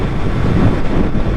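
Strong wind buffeting the microphone outdoors, a loud and steady low rumble that fills the whole short moment, with no talk.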